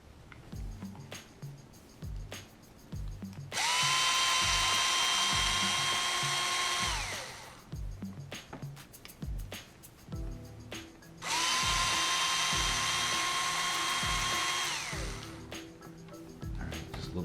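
A power driver spins screws out of a Traxxas XO-1 RC car chassis, two sustained whirring bursts of about three seconds each with a rising-then-falling pitch, separated by small clicks and handling noises.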